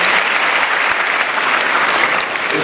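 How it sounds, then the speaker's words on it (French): An audience applauds after a speech to the first lady at a NIWO 2018 conference, dense steady clapping filling the room throughout with no pauses. "on applaudit très très fort pour la première dame"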